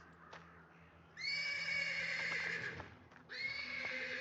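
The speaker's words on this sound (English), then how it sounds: "neighing of a horse can be heard from the stables." A horse neighs loudly twice from stables, each whinny long and drawn out, with a quiet stretch of background noise before the first call.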